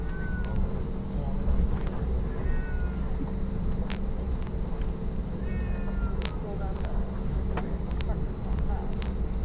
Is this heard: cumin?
no